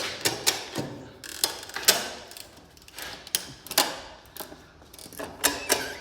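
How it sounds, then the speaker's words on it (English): Ratchet strap being cranked tight in a workshop, giving repeated sharp clicking ratchet bursts in an uneven rhythm, close and clear with no talk. "I don't think it's ever been done that a strap has been ratcheted tight"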